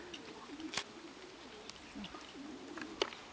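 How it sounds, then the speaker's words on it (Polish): A young Janssen racing pigeon hen coos softly in a loft, with low, rounded calls repeating between sharp clicks and handling noises. "Następny gołąbek, samiczka."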